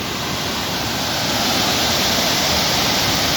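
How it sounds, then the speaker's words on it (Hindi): A large waterfall on the Shrikhand Mahadev trek roars as a loud, unbroken rush of water that fills the whole moment and swells slightly toward the end, with no voices. "अभी ये सबसे बड़ा झरना है, बाकी वालों से ये सबसे बड़ा झरना है ये वाला।"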